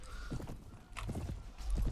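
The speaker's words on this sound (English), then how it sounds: "Cavalry charge because they're charging us." Cavalry horses charge in a Mount and Blade: Warband battle, with rapid clip-clop hoofbeats and a whinny rising over dense battle din, loud and close.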